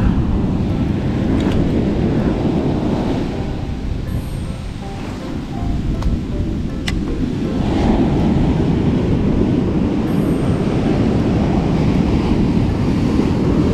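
Ocean surf on a Sendai beach in strengthening waves roars continuously, waves breaking and washing in a dense, steady wall of noise, with wind rumbling across the microphone.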